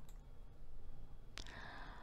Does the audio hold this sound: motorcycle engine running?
no